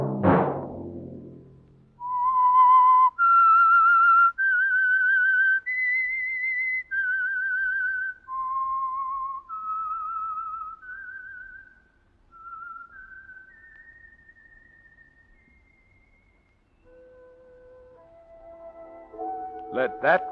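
A clear, melodic whistled tune of sustained notes rising and falling, loud and close, the theme of a classic radio suspense show, followed by a few fainter tones at the end.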